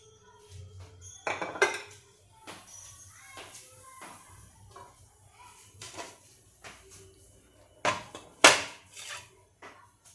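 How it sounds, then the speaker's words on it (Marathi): Semolina dhokla being lifted out and set onto a plate, with several close clinks and knocks of utensils and dishware in an irregular run, the sharpest taps near the end, under a faint background hum. "आता मी हा ढोकळा एका प्लेटमध्ये काढते"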